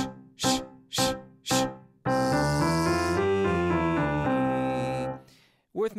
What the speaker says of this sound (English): there's no breathing in between the shushes